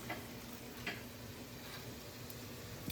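Beans searing in a hot pan while a steak cooks alongside, a steady close sizzle and crackle running throughout with a faint low hum beneath.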